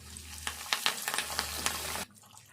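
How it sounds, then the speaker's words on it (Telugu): Curry leaves crackle and sizzle in hot oil alongside dried red chillies for a Telangana pulihora tempering, a bright spattering burst that cuts off abruptly after about two seconds. "ఇట్లా వేగంగానే ఇప్పుడు కరివేపాకు వేసుకోవాలి."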